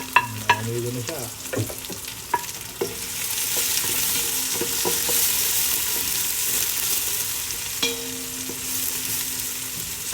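Garlic and onion sautéing in a pan for kare-kare, a continuous close sizzle with a few ringing metal clanks of the spatula against the pan early on and again near the end.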